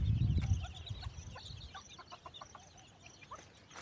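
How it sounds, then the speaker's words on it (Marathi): A desi hen with four chicks clucks on a farm, a few soft clucks and chirps near at first, then quieter scattered peeps and calls over faint background. "बघा ही एक कोंबडी आहे 4 पिल्लांची."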